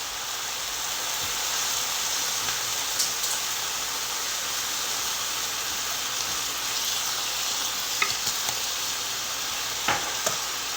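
Korean beef sauce sizzles steadily in a cast iron pan with the meat, a constant hissing fry with a few faint clinks of stirring, no talking.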